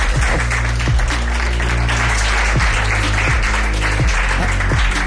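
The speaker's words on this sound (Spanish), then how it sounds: "nos pide un aplauso para él" A loud, dense crowd applauds steadily throughout, with a low rhythmic thumping running underneath the clapping.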